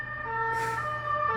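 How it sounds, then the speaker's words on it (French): An ambulance siren wails with steady sustained tones, fairly loud and drawn out, with a brief swell of broadband road noise as it passes. "ça c'est une ambulance."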